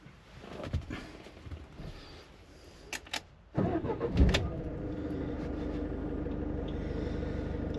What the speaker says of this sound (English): we'll turn the car on and we'll turn the van on and see what we get